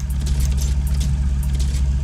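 An Aston Martin in Need for Speed Heat, its exhaust giving a loud, steady low engine drone at a constant idle-like pitch, heard alone and close up for a couple of seconds.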